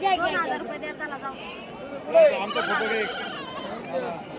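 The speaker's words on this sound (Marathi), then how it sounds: "घरी शेळ आहेत पहा मित्रांनो" Young goats and sheep bleat at a busy livestock market in Shirur, Pune district, their wavering cries rising over constant chatter and bargaining voices close by.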